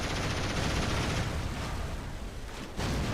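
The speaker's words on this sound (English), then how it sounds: "Oh yeah, okay, we shoot him." Dense rapid gunfire from the video game Killzone, a sustained loud barrage of shots and blasts filling the whole stretch without pause.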